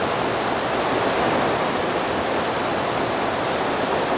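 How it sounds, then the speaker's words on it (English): Heavy rain pours steadily outside an off-grid cabin during a strong storm, a dense, unbroken roar of downpour that stays loud and even throughout, with no voices. "I can't even hear myself think, it's raining so hard"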